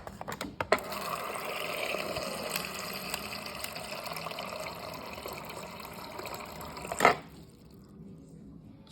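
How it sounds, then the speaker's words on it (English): Water from an LG refrigerator's door dispenser pours steadily into a cup, a soft continuous gushing stream with a brief click near the end before it cuts off to quiet. "And some water."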